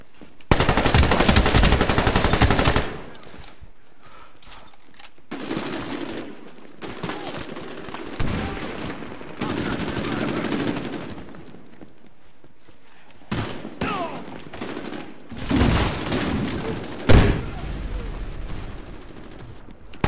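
Gunfire in the PC online shooter Medal of Honor Warfighter: loud bursts of automatic weapon fire and single shots come in uneven volleys, with quieter gaps between them and brief sounds of movement.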